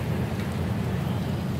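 Rain and a thunderstorm roar in a post-apocalyptic survival game, a dense, loud, continuous wash of rainfall over a deep rumbling low end with no speech.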